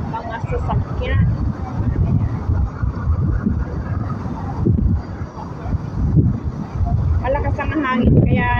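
Heavy wind buffets the microphone in loud, uneven gusts in Hong Kong, with a voice talking intermittently beneath the roaring rumble.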